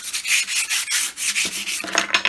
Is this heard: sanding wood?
yes